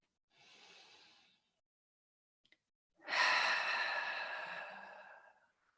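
Calm yoga breathing, a soft inhale followed after a pause by a longer, louder breathy exhale close to the ear, with no talk.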